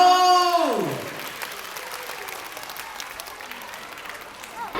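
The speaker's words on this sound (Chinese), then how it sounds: "掌声欢迎《卖照玩具小偷》" A large audience of young children and parents applauds to welcome a children's theatre troupe, a dense sustained roar of clapping that follows a falling tone and slowly fades.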